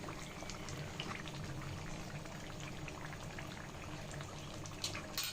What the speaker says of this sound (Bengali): মিডিয়াম জালে রেখে জিলাপিগুলো ভাজতে হবে